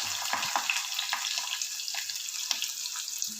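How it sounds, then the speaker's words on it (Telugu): Chopped onions and green chillies fry in a pan with a steady, bright sizzle, close and continuous, with a few soft stirring knocks and no talking. "ఇదిగోండి ఉల్లిపాయలు, పచ్చిమిరపకాయలు వేసిన తర్వాత ఇవి కొంచెం అంత వేగాలండి."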